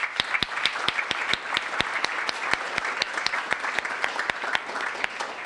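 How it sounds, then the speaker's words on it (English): Applause at a school fall sports banquet: a modest crowd claps at moderate volume, with a few sharp, distinct claps standing out over the softer, steady patter. "So can I have a round of applause for these guys?"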